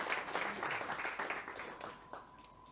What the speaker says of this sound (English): Can everyone give Martin a big round of applause?